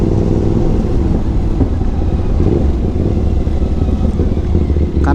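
A motorcycle engine runs steadily and close by, a continuous low rumble holding fairly constant throughout with no speech.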